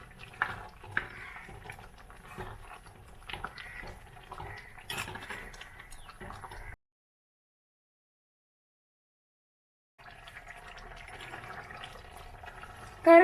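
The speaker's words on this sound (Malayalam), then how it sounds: "നന്നായിട്ട് തിളച്ച് വന്നിട്ടുണ്ട്" Dried anchovy fish curry boils in a pot, a soft continuous bubbling with occasional pops, broken by a stretch of total silence before the bubbling resumes.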